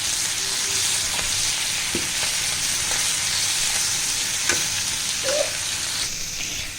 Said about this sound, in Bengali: উল্টে পাল্টিয়ে আমি শুটকিটা ভুনা করে নিচ্ছি